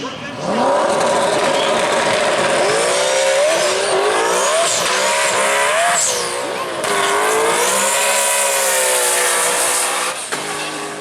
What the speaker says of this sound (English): We got John Miller making a solo pass in that left lane in his 2014 Mustang from Festus, Missouri